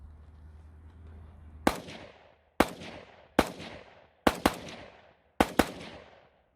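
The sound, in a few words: gunfire at a volunteer corps training battalion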